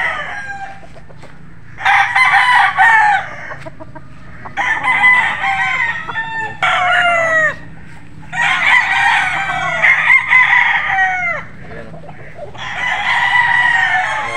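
A street-breed golden boy rooster crows loudly and close by in a series of long, repeated crows separated by short quiet gaps, with faint background noise and no talking.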